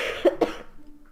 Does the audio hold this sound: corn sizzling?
no